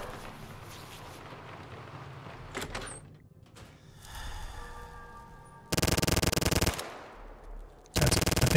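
Ceiling turret in the video game Fallout opening fire in loud bursts of rapid machine-gun shots, two sustained volleys separated by mechanical whirring, sliding and clanking noises.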